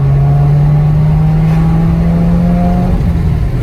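Turbocharged Subaru WRX under acceleration, a loud, close engine drone climbing steadily in pitch for about three seconds before easing off, heard from inside the car.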